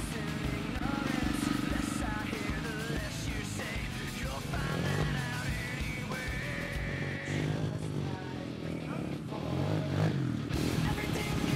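Competition motorcycle engine at a race restarting and revving as the rider pulls away, loud and continuous with rising pitch, under French commentary.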